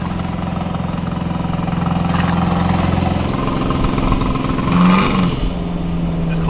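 The engine of a stance car with a diesel pump rumbles steadily and loud while driving with the window open, with a brief pitch shift near the end.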